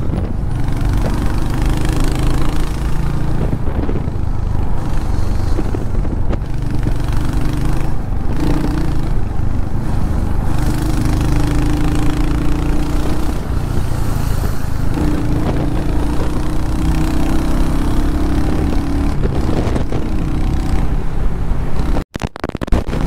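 A Royal Enfield Hunter 350 motorcycle engine drones low and steady while riding through traffic, its rumble rising and falling with the throttle and wind noise over the top.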